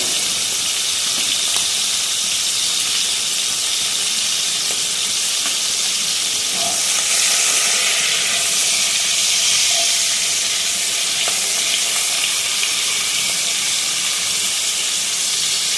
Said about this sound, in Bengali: ভালোভাবে লাল লাল করে ভেজে নেব